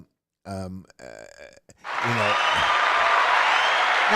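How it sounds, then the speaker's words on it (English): An audience at a comedy show bursts into cheering and applause after a man's short spoken lines, a broad, steady roar of many people that swells up and holds loudly to the end. "First of all, that was cheering."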